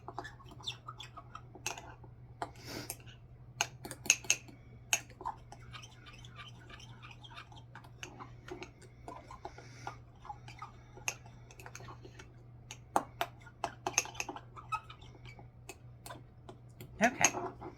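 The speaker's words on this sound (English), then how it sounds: "So I want to just kind of keep mixing until I get those lumps out." A spoon stirs chocolate mug cake batter inside a mug, giving quiet, irregular clicks and taps against the sides over a steady low hum, with faint scraping between the ticks.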